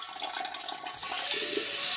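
A stainless steel hand-held bidet sprayer sprays water in a steady close hiss that swells slightly louder partway through, with no talking.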